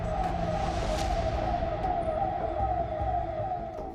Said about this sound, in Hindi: सन्नाटे को चीरती हुई पुलिस की गाड़ी के सायरन की आवाज आ रही है।